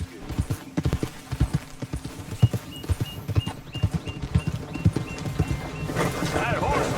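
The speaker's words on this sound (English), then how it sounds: "That horse looks like a fine traveling companion" Horse hooves clip-clopping in a steady, fairly quick rhythm, close and distinct, with a brief whinny in the mix, from a horse in the game Red Dead Redemption 2.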